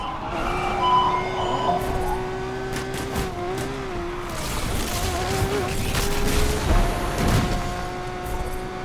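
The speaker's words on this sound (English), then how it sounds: "This truck's hitting us!" In Need for Speed Unbound, a truck slams into the player's car: a steady, loud engine roar with shifting revs runs throughout, and heavier crunching bursts around the middle and late part suggest the impact.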